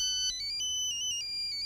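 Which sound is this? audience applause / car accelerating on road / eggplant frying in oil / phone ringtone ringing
phone ringtone ringing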